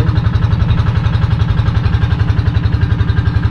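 An engine runs noisily nearby at an outdoor cooking spot, giving a loud, steady, rapidly pulsing low rumble that continues throughout.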